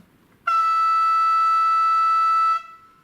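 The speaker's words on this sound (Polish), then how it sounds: "Jest trąbka długa i też tak długo trąbi, aż ja wyłączę na klawiszu." A single long, steady electronic horn tone from a model locomotive sound decoder sounds alone, holding at constant loudness for about two seconds before cutting off.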